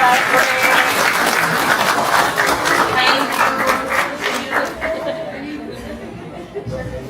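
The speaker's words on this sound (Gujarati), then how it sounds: "જોરદાર તાળીઓની" An audience at a junior kindergarten annual function applauds, dense clapping mixed with chatter that holds strong and then gradually thins and fades toward the end.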